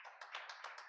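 Scattered hand claps from a congregation at a church service, a handful of quick bursts, quiet and slightly distant.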